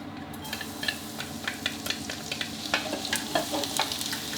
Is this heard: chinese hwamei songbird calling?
no